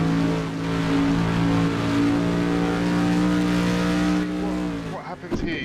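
A V8 Supercar engine roars in a racing game, Assetto Corsa, holding a loud, steady, harmonic drone at high revs before dipping and stuttering near the end.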